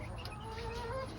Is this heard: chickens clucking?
yes